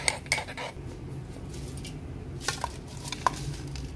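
Crisp, light rustling and clinking as fried potato fries are tossed in a bowl, soft irregular crunchy scrapes with occasional utensil taps, no talking.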